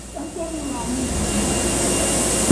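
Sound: large-format printer running

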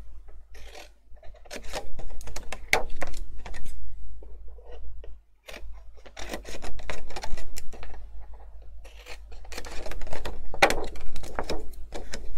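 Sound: cutting off corners of a box template

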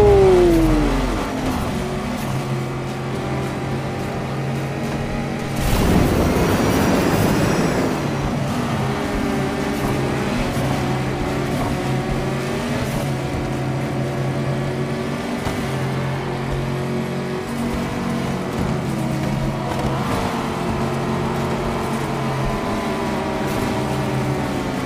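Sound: Hot Wheels Bone Shaker car racing in Hot Wheels Unleashed video game

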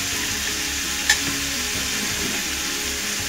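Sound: stirring jackfruit, fried potato and spices in a pan

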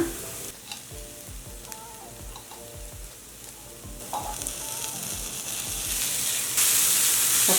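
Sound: chili paste frying with onions in a pan

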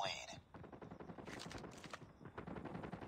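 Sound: gunfire in the video game Call of Duty Mobile

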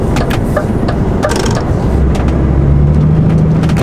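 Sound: car driving and accelerating on road

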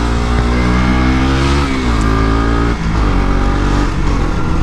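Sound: motorcycle with Akrapovic exhaust revving and accelerating

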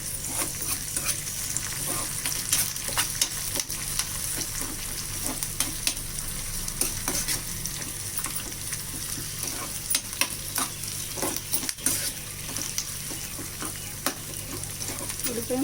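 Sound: curry leaves and onion frying in pan

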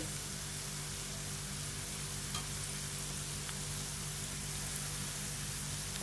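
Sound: turmeric and chili powder frying with onion and garlic

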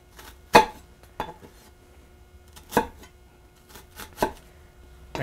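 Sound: knife cutting food on a cutting board

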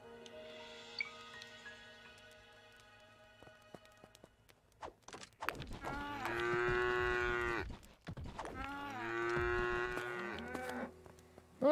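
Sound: cow mooing in the video game Craftopia

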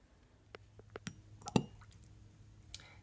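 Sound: water dripped onto packing peanuts

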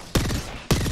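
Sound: gunfire from a Kraber sniper rifle in Apex Legends video game

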